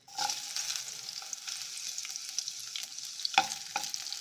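Garlic frying in a spoonful or two of hot oil, a bright continuous sizzle with a few sharp spoon scrapes and taps against the pan, close up and without speech.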